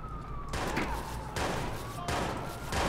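Shotgun blasts in Watch Dogs, three loud booming shots spaced roughly a second apart, each followed by a noisy tail, with a siren-like tone faintly underneath.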